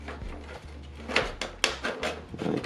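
A dishwasher control panel from a Zeolite-series unit slides into the outer door shell with a few soft plastic scrapes and clicks, close and fairly quiet, over a low steady hum.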